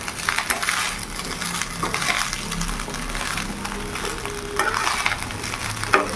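Fried rice with black pepper powder being tossed and mixed in a pan, with repeated metallic spatula scrapes and clinks over a low sizzle, close and busy, no speech.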